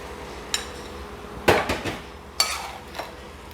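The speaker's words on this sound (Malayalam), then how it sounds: "ആ അരപ്പ് ഇതിലേക്ക് ഒഴിച്ചു കൊടുക്കുകയാണ്." A ground coconut, cumin and curry leaf paste poured into koottukari in a pot, with several sharp metallic clinks and scrapes of a utensil against the vessel over a quiet background.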